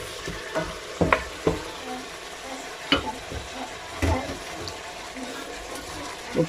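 Tomato drops into a sizzling spinach and beef sauce and gets stirred: scattered spoon clinks and scrapes over a soft, steady frying hiss, close up.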